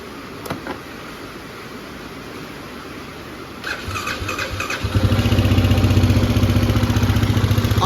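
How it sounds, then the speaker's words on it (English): An off-road vehicle called the 500, fitted with a snorkel and 420 front shocks, cranks and starts after a few faint clicks, then settles into a loud, steady, slightly high idle with no talk. "Idle's a little high, but that's because the snorkel."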